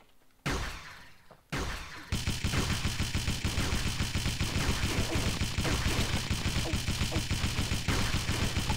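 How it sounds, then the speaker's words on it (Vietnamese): Sustained rapid automatic gunfire in the mobile shooter Pixel Gun, loud and close, preceded by two single heavy blasts, then a long unbroken burst with no talking. "Mình bắn gần cả băng luôn đấy."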